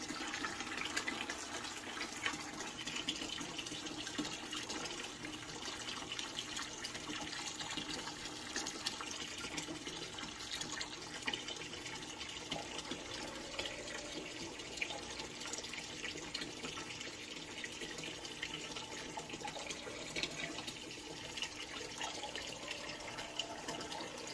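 An AQQA electric aquarium gravel siphon draining fish tank water into a bucket, a steady close splashing and trickling flow that continues without pause for the whole stretch, with no talk.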